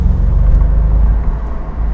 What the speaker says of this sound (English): it sounds like a good old-fashioned muscle car